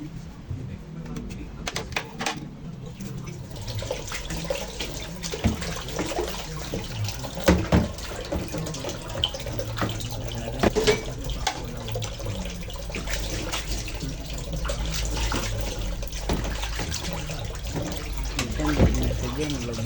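Dishes are washed under a running tap, with steady water flow and splashing at a sink and occasional clinks, heard continuously under a person talking throughout.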